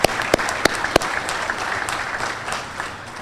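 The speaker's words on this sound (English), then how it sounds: "let's give him a round of applause" An audience at a law enforcement awards ceremony claps for Dave, a few sharp opening claps that swell into a moderate, steady round of applause in a hall.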